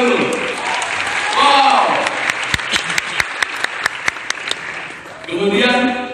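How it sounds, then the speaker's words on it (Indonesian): An audience at an ESQ training session claps in a quick, evenly spaced rhythm, crisp and close, while a voice speaks over the claps and exclaims. "tepuk tangan dulu"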